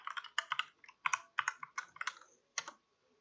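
Close computer keyboard typing comes in quick uneven bursts of crisp key clicks with short pauses between them, and no one speaks.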